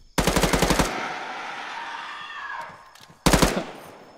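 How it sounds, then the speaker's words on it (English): Automatic gunfire in a shooter video game: a rapid burst of about eight loud shots, a ringing tail, then a second short burst. "Last two bullets and I killed him."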